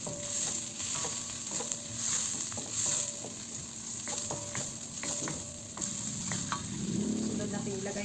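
Tomatoes fry in a pan with a constant close sizzle while being stirred, with scattered soft scraping and tapping of the utensil. No one speaks.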